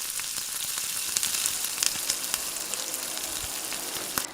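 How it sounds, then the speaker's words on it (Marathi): Mixed chana and moong dal bhaji deep-frying in hot oil over medium heat, a loud, dense and continuous bubbling sizzle with sharp crackles scattered throughout, heard up close. "चला आता आपण भजी तळून घेऊया तेल गरम झालेलं आहे"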